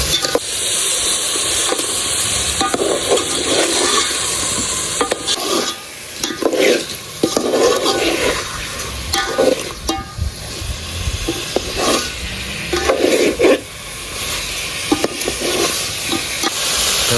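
A spoon stirs and scrapes through khaga fish curry in a hot pan, with a steady sizzle and hiss under uneven, repeated scraping strokes, loud and close, with no talk.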